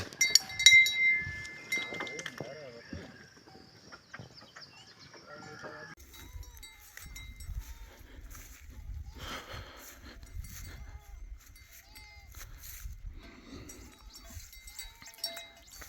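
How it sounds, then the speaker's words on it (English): Boer goats feeding on acacia leaves at a farm, with a few bleats early on, clinking bell or metal sounds, and quiet rustling and chewing at close range. "Our goats enjoying their favorite food."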